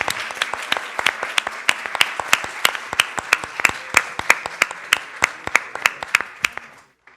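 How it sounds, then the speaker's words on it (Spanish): An audience at an academic panel on environment, territory and inequality applauds, with sharp individual claps coming fairly close and steady for about seven seconds before stopping abruptly. "Sí, pues un aplauso."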